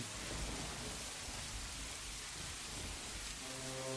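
Heavy rain pours down in a cartoon scene, a dense, constant roar of falling water filling the whole stretch with no break and no speech.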